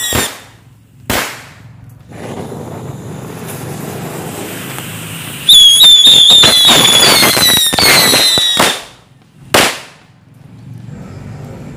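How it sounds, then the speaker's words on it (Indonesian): A batch of rat firecrackers (mercon tikus) set off all at once outdoors: a few sharp pops, then several seconds of dense shrill whistling and crackling bursts, followed by a couple of final loud bangs. "ini yang selanjutnya kita nyalakan mercon tikus"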